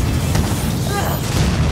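Explosion in the parkour game Mirror's Edge Catalyst, a loud broadband boom with rumbling low end that fills the whole moment, sustained and roaring.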